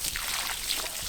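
Water splashes and trickles steadily onto very hard, dry ground in a garden, a continuous close hiss of pouring with small bursts, no talking.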